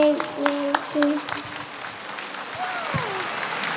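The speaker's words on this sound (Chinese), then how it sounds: "鼓掌了，看见吗？" Audience applause at a live talk, a steady broadband patter of clapping throughout, with voices and tonal calls rising over it.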